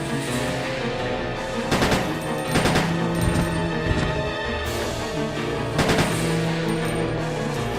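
Repeated gunshots fired at zombies in Resident Evil Code Veronica X, sharp loud reports spaced in uneven bursts over a constant droning game background.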